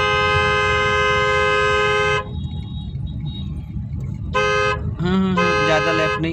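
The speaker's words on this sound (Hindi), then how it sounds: "साइकिल वाले को हॉर्न दीजिए।" A car horn blares in two long honks with a short gap, then a couple more blasts, over a running engine and traffic.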